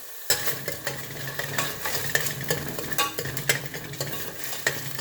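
Masala sautéing in a pan over medium flame for a quick mutton gravy: a soft steady sizzle broken by regular scraping strokes of a spoon stirring through the mixture, close and clear with no voices.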